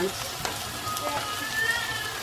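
Yellow pepper frying in coconut oil in a pan, a steady crackling sizzle with occasional pops, close up, with brief speech mixed in.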